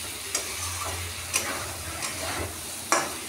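Potatoes and taro being stir-fried with spices in a pan, a soft sizzle broken by a few sharp clinks of a utensil against the pan, heard close with no talking.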